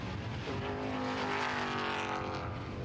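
A Formula 5000 Lola T400 race car at Taupo, its big engine bellowing loud and close with a rising, sweeping pitch as it passes, alone without talk.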